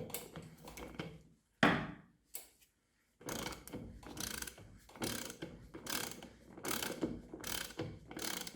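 Ratchet wrench tightening a wheel bolt, fitting a 10-inch wheel to a 12-inch QMA case, with repeated close, crisp clicking strokes in bursts separated by short pauses and no talk.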